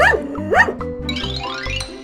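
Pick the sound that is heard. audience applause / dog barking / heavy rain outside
dog barking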